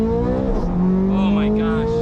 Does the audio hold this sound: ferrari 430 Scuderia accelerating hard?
yes